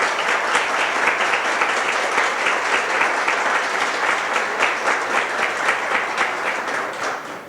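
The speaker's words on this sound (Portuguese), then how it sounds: "Muito obrigado pelas palmas para o Turing" A lecture audience applauds loudly and steadily, a dense sustained wash of many hands clapping close by for several seconds, with no talk over it.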